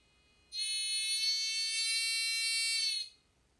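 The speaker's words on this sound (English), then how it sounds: "as I increase it, you're going to hear that buzzer sound get louder and louder." A harsh electronic buzzer sounds for about two and a half seconds, rising sharply at onset then holding steady and loud before cutting off.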